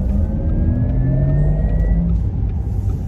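A 2021 Porsche Taycan electric car accelerating hard, heard as a loud, continuous rushing rumble of road and motor noise with faint rising whine tones, close and steady throughout with no voices.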